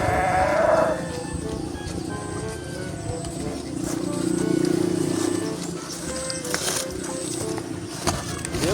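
Sheep bleating in a farm setting, several wavering calls rising and falling over several seconds, fairly close and loud against a busy background with faint voices.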